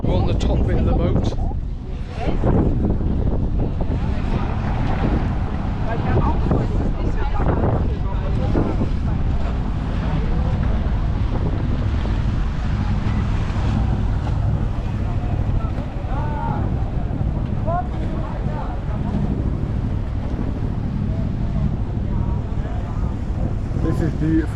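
A boat cruises on the sea off Hurghada with strong wind buffeting the microphone, a constant rushing roar of wind, water and engine throughout, heard from the upper deck.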